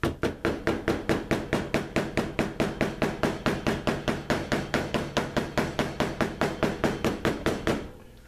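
A small hammer held by the head taps rapidly and steadily on leather stitching, dozens of crisp, evenly spaced blows flattening the threads on a firm surface, close up, then stops.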